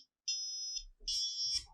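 Buzzer on a Pinoo control card fitted to an obstacle-sensing hat, sounding two shrill, steady electronic tones close by, each roughly half a second long with a short gap between.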